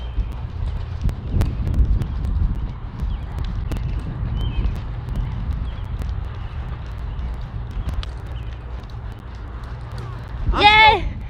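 A horse being trained as a pleasure horse moves along with rhythmic hoofbeats and some wind noise, while a person talks over it throughout.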